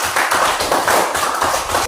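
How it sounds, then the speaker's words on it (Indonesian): A classroom group gives a round of clapping, dense and steady with a loose rhythmic pulse of beats, close and fairly loud for about two seconds. "tepuk tangan untuk kelompok"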